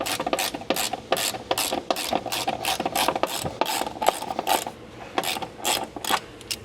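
Ratchet tightening T-bolts into the seat channel of a Bobcat during a radio installation, with rapid continuous pawl clicking in steady bursts, close and fairly loud, no talking.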